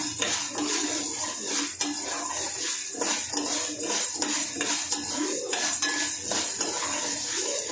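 A spoon scrapes and clatters against a pan as moong dal is stirred while roasting over high flame, a continuous close rhythmic scraping with metallic knocks and no talking.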